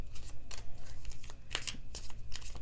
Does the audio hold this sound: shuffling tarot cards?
yes